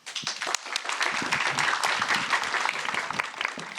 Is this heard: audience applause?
yes